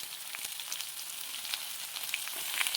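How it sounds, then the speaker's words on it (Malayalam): Sliced onion fries in a pan with a continuous soft crackling sizzle, fairly quiet and even throughout, with no voices. "ഞാനെന്താ സ്ലൈസ് ചെയ്ത സവോള കുറച്ച് ഇട്ട് കൊടുക്കുന്നുണ്ട്."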